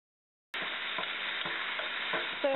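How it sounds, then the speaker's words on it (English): Carrots and mushrooms sauté with ginger and garlic in a hot wok for a stir-fry of tofu, mushrooms and pork. A loud sizzle starts abruptly and holds steady, with soft knocks of the utensil against the pan. "we're going to saute the carrots and mushrooms next"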